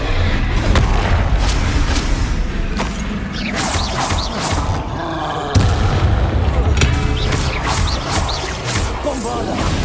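The Confringo spell from the Hogwarts Legacy video game, cast during a battle with goblins, sets off a series of loud, booming explosions. Blasts and crashes come repeatedly, mixed with creaks and mechanical clatter, and a voice shouts beneath the noise.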